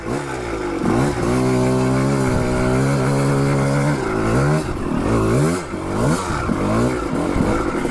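A 1985 Yamaha Tri-Z 250 two-stroke ATV engine revs hard and loud close by, the pitch rising and falling as the throttle is worked among rocks.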